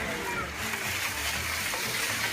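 Water swishes and splashes steadily in a shallow gold pan with dirt, a continuous close-up sloshing with a faint voice in the background.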